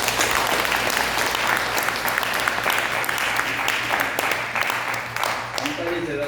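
A church retreat audience gives steady, dense applause that continues throughout at an even level, with a faint low hum underneath.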